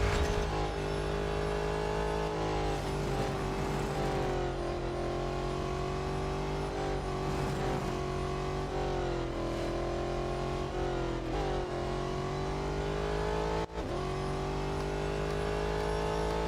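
Race car engines from the video game Real Racing 3 drone steadily throughout, a sustained loud mid-pitched whine with shifting revs and a brief dip near the end, no talk.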